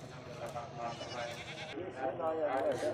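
Goats bleat in a rural livestock setting, with several wavering calls close by, mixed with people talking nearby.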